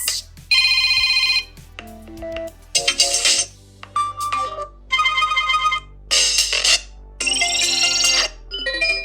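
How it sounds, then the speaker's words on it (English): A Motorola Moto G7 Play phone plays its ringtone, a series of bright, chiming electronic melody bursts separated by short pauses, loud and close. "This ringtone is nostalgic to me"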